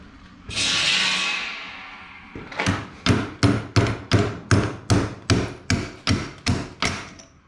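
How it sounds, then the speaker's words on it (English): A burst of harsh noise, then about a dozen loud, evenly spaced hammer blows ring out in a steady rhythm, close by. "Maybe now I can bash it with a hammer."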